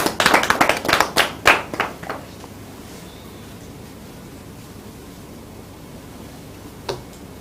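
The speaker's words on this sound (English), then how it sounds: "Round of applause." A small group claps briefly at a talk on saving and investing: a quick burst of a dozen sharp, close handclaps over two seconds, then near silence broken by one last clap.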